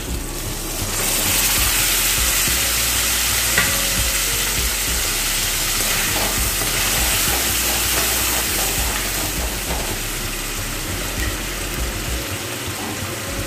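A paste of ginger, onion, garlic, tomato and green chili frying in a pan over fried onion for a jackfruit chicken curry, a steady loud hissing sizzle with faint bubbling and stirring, no voices.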